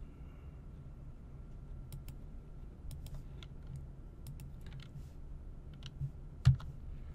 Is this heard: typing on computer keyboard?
yes